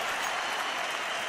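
An arena crowd at a CS:GO esports match between Astralis and SK Gaming at the Blast Pro Series on Mirage roars and applauds in a dense, loud, continuous wash of sound with no distinct voices.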